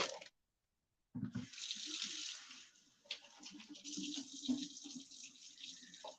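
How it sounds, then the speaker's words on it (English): Water runs from a kitchen tap while spinach is rinsed for homemade pizza, a close hissing splash that stops briefly and then resumes, shifting as the leaves move under the stream. "Rinse the spinach."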